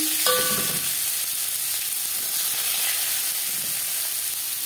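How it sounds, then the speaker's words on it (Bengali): Chopped onions hitting hot oil left from frying fish, giving an immediate steady sizzle and hiss that carries on close and loud throughout. "মাছ ভেজে নেওয়ার তেলে দিয়ে দেবো পেঁয়াজ কুচি"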